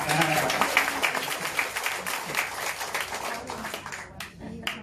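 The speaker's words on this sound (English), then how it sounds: "clap hand lah, clap hand" An audience claps their hands, a loose patter of individual claps that thins out toward the end, with voices talking over it.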